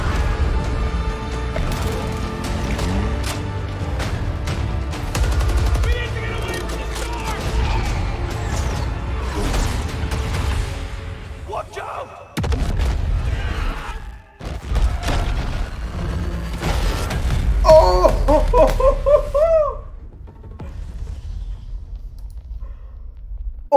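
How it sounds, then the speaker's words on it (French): Battlefield 2042 trailer battle: booming blasts of an exploding rocket and bursts of gunfire with crashes and whooshes, loud and dense, briefly cutting out twice, with a voice calling out near the end. "Oh la roquette qui explose!"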